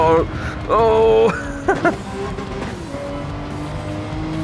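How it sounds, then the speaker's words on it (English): Porsche 991 GT3 RS in Gran Turismo 7 braking hard, with tire squeal and shifting engine tones in bursts, then a steadier engine drone; game audio, fairly loud and close. "We're really having to slam these brakes"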